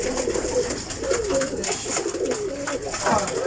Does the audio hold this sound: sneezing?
no